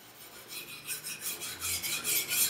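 A Japanese knife edge drawn in trailing strokes across a sharpening stone, a soft rhythmic rasp repeating several times and growing brighter and louder, close up with no talk.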